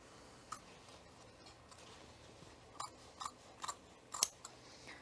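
Scissors snipping through layers of fabric around a welt pocket opening, a few quiet separate cuts that bunch together near the end, with no talk over them.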